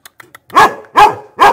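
Dog barking close by, three loud, sharp barks in a steady rhythm after a few faint clicks, with no talk.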